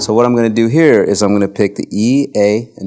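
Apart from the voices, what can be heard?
No everyday noise stands out behind the speech.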